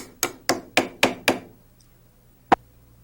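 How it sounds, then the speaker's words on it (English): A plastic hammer drives bolts through holes in aluminum parts of a RotorWay 162F helicopter during service, with five sharp, evenly spaced knocks close by, then a pause and one final blow. "Use a plastic hammer to drive the bolts through the holes."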